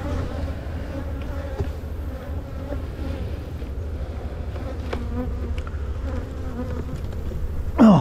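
Honeybees buzz around an open hive in a beeyard, a dense, continuous droning hum of many insects close by, with a few individual bees zipping past and a brief louder rustle at the end.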